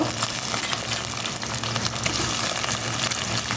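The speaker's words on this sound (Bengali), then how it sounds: "এই যে এখন আমি একটু এই পেঁয়াজের সাথে এটাকে ভেজে নিব" Shrimp frying with onion in a pan for a mixed vegetable and shrimp dish, a loud, dense, continuous sizzle that stays steady throughout.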